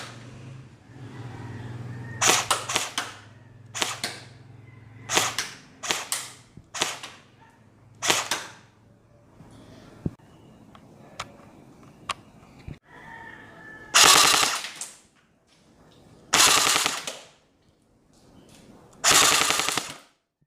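A G&G SIG GS550 airsoft rifle fires BBs through a chronograph in a series of sharp snapping shots, single shots and short bursts, loud and close, with a few longer, heavier bursts near the end and quiet gaps between.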